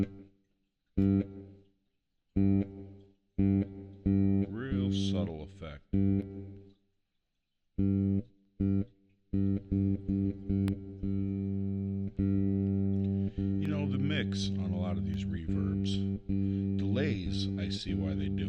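Bass notes played through a Zoom B6 bass multi-effects pedal with a subtle reverb, plucked in short bursts with brief gaps and then a denser, sustained run of ringing tones toward the end.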